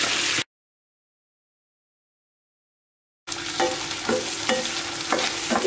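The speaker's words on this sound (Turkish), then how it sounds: "Eriyen yağımın içerisine 1 su bardağı ıslattığım pirincini ekliyorum." Soaked rice sautéing in melted fat and oil in a pan, with a crackling fry and scraping stir strokes that come in abruptly after a stretch of silence.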